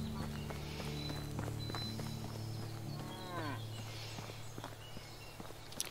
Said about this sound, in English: Oh, cattle.